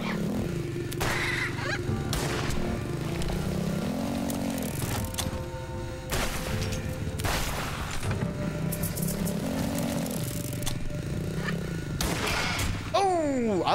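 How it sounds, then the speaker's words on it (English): Enemy gunfire in a third-person video game: dense, continuous volleys of shots and whip-like cracks layered over whooshing game effects, with a player talking throughout. "they can still shoot me during bullet time."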